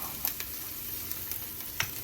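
A seasoned rice dish with Italian seasoning stirred in a pan, soft steady sizzle with a few light spoon clicks against the pan.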